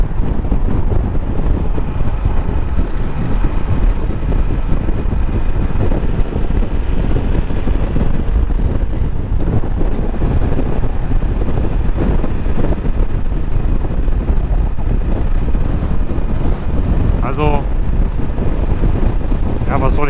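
A Yamaha Tenere 700 motorcycle with a short windscreen picking up speed, its engine drone buried under loud, constant buffeting wind noise at the helmet, steady throughout with a brief tonal rise near the end.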